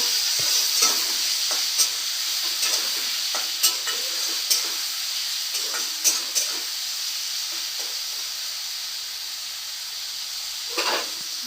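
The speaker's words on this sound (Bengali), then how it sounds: "আমি এটাকে এখন নাড়াচাড়া করে নেব" Potatoes and prawns sizzle in a frying pan while a utensil stirs them, giving a steady hiss broken by irregular scraping strokes, close and fairly loud, with no talking.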